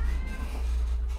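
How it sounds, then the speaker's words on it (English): A single short meow from a pet cat named Marco, faint and somewhat distant over a steady low hum, with no other voices. "That's my cat, Marco."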